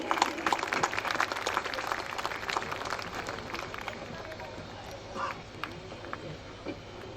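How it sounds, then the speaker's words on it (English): Sustained audience applause from a large crowd at a graduation-style ceremony, dense clapping loudest at the start and slowly thinning, with voices mixed in. "A loud round of applause, everybody,"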